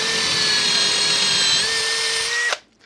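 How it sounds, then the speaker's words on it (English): A power drill with a 25/64 bit bores straight down in one loud, steady whine lasting over two seconds, then cuts off abruptly, leaving near silence. "Just drill straight down."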